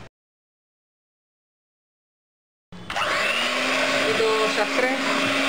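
Electric kitchen mixer blending powdered sugar while preparing homemade mango ice cream, starting abruptly after a silent pause and then running as a loud, steady whir to the end, with a brief spoken word at the very start.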